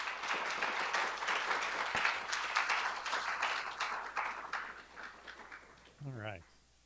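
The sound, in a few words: audience applause for presenters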